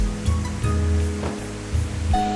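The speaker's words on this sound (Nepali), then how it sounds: "सुन्दर झरना पो रहेछ" A waterfall sliding over rocks in the Rolwaling Valley, a steady broad rushing roar of falling water, close and loud, with a faint musical tone alongside.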